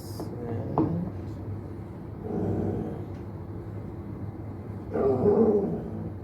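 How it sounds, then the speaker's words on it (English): A dog barks and yips in short bursts against a low background hum, with a voice faintly mixed in. "Hang on, gotta deal with the dog."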